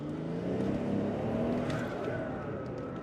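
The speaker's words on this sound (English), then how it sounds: "You can hear the turbos just ready to go" Engine of a turbocharged car heard from inside the cabin, a low steady rumble with a slight rising whine, moderate and unbroken.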